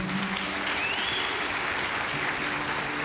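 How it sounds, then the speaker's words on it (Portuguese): A church congregation claps together in steady, dense applause that fills the room for a few seconds, without talking. "Aplauda o Senhor."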